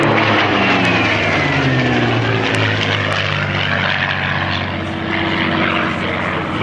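A Supermarine Spitfire's piston engine drones during a flying display at an aviation museum, a loud, steady propeller roar that holds throughout with a slight fade and swell as the aircraft passes.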